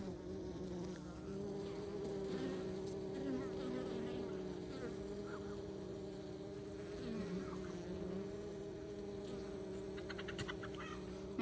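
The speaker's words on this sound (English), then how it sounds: "Let's watch the bees for just a little bit. You can hear them." Many honey bees buzz continuously nearby, a steady droning hum with individual insects rising and fading as they fly past.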